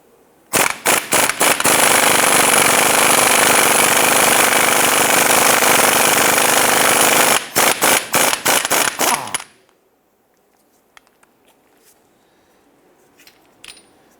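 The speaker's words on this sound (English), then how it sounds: "Using a 35mm socket, we're going to go ahead and loosen and remove the axle nut." A 35mm socket loosens the front axle nut on a 2015-2020 Cadillac Escalade in one loud, continuous rattling, hammering burst of about nine seconds. It cuts off abruptly, leaving only faint scattered clicks.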